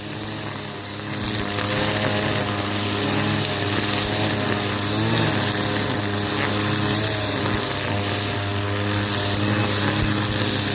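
A grass trimmer cuts grass beside the sea in Kerala, its motor whining steadily and loudly at close range with slight shifts in pitch, and no one speaks.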